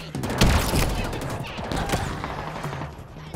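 Rapid bursts of gunfire from a weapon in Halo Infinite's campaign, loud and close with thumping impacts, while someone talks over the shooting.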